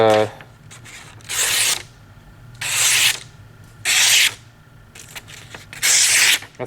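SOG Team Leader knife, sharp from the factory, shaving off small pieces in four distinct rasping scrapes spaced about a second apart, close and fairly loud, with quieter handling noise between.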